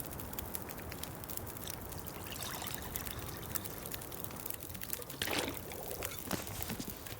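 Water pouring while making coffee in the survival game The Long Dark, modded: a soft, steady trickling pour, faint and continuous, with a brief louder splash near the end and no talk.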